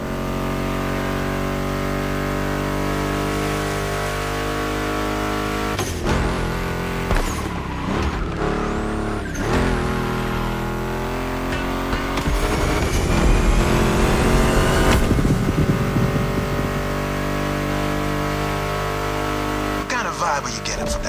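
A Ford Mustang GT muscle car's V8 revs and accelerates in the racing video game The Crew Motorfest, loud rising and falling engine notes with gear changes, over background music.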